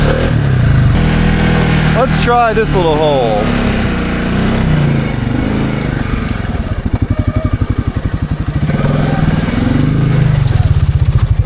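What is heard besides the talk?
Can-Am Outlander ATV single-cylinder engine revving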